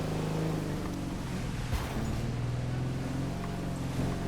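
Koenigsegg Gemera's tiny 3-cylinder engine in The Crew 2, a steady low drone with harmonic bands that dip and rise in pitch around the midpoint, loud and continuous throughout with no talk.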